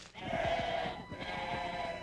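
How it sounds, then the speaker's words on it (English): Sheep bleat in a park, a wavering, drawn-out cry followed by a second bleat, moderately close against a steady outdoor background hiss. "Sheep in the park?"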